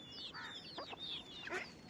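Hens shut inside a woven basket in a rural Maharashtra herding camp, giving soft, brief clucks and squawks, a few calls close by and fairly quiet.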